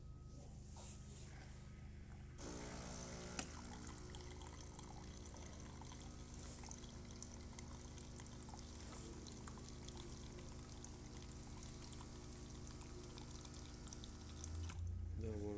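Hot water pouring steadily from a Breville Barista Touch espresso machine under a constant machine hum, starting after a couple of seconds and running about twelve seconds before cutting off with a short louder burst.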